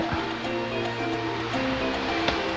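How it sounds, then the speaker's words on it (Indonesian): A wild mountain river in the Cilengkrang valley of Kuningan, West Java, rushing loudly and continuously, its broad churning roar steady from start to finish without speech. "Inilah suara air yang kita dengarkan dari tadi"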